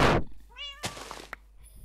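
A Minecraft cat gives a single short meow in the game, heard clearly after a brief burst of noise, followed by faint clicks and near silence.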